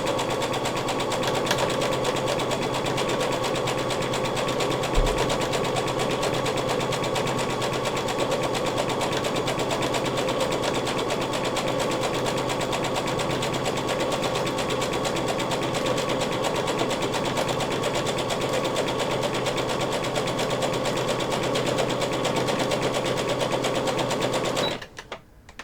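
A sewing machine runs continuously as it stitches a seam on a build, its fast even mechanical whir holding steady and close for the whole stretch before stopping abruptly at the end, with no talk over it.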